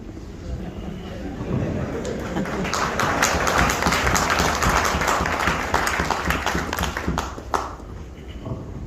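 An indoor audience at a talk by an Ayurvedic doctor in Delhi breaks into applause that swells to a dense, steady patter of clapping, then thins out with a few last claps, mixed with some crowd chatter.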